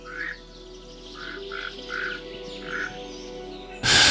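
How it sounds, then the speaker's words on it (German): Bright orange forest frogs in the Nyungwe forest call in short, repeated croaking bursts, about six spaced notes over a few seconds, moderately close against a quiet woodland background, ending in a sudden loud burst of noise. "Im Schatten des Waldes lauern leuchtend orangefarbene Waldfrösche auf Farnblättern."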